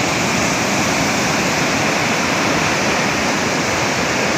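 A river swollen by a typhoon rushes hard past an irrigation site in Aklan, a loud, constant broadband roar of churning water with no pauses, close and overwhelming.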